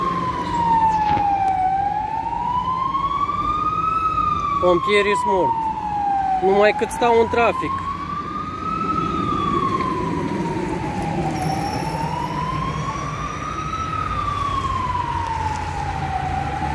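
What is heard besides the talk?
ambulance siren in city traffic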